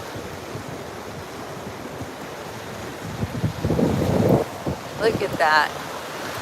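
Ocean surf rolls onto a beach in a steady rushing wash, with wind buffeting the microphone; a voice speaks briefly near the end over the waves.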